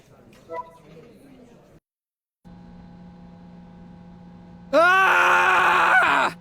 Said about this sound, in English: Sounds like Rector's being attacked.